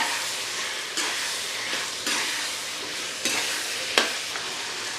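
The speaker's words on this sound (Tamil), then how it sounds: "வெங்காயம் வதங்கிக்கிட்டு இருக்கு பாருங்கள்" Tomatoes, dried and green chilies and onions fry in a pan, sizzling steadily up close while a spoon stirs them with periodic scraping strokes.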